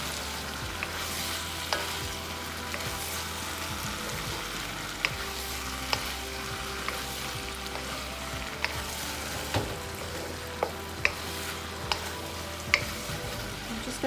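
Aloo gobi of potato and cauliflower fries in a pan with a steady soft sizzle, broken by occasional light scrapes and taps of a spoon stirring, fairly quiet throughout.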